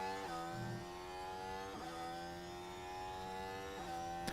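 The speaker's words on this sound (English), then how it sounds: "A lot of cars out on circuit now." Formula 1 cars out on track during Monaco Grand Prix qualifying, high-pitched engines whining and shifting through gears in several distinct surges, heard from a moderate distance.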